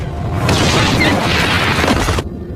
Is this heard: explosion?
yes